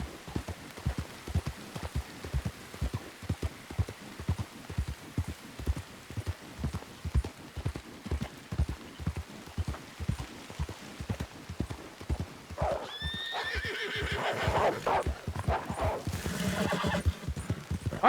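A horse gallops in a video game, its hooves clip-clopping in a fast, steady rhythm that runs throughout, followed near the end by a loud, close neigh.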